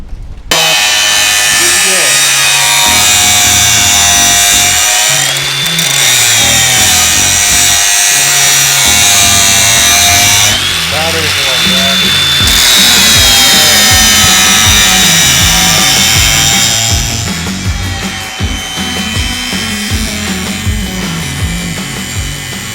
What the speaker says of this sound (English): we bought this brand new wire wheel